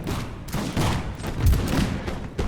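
Musket volleys in a Total War mod battle with Russian troops: rolling, overlapping bursts of distant gunfire crackle continuously, with dull booms mixed in, fairly loud and busy.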